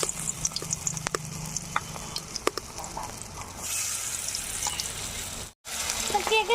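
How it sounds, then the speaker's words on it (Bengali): Battered Indian pennywort leaf fritters are deep-fried in hot oil, crackling and sizzling close by with light stirring clatter. Partway through, the frying swells louder, then cuts out briefly before resuming. "এখন আমি তেলে দিয়ে ভেজে নেব।"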